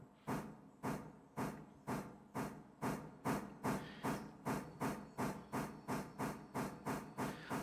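A steam locomotive in the train-driving game Railroader chuffs with a steady, rhythmic run of sharp hissing exhaust bursts, about two per second and quickening slightly, loud and close with no talk.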